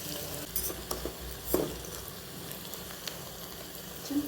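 Chopped onions stirred and fried in an oil tempering while making paniyaram: a steady sizzle with scattered scraping and clinking of a spoon against the pan, close up and without speech.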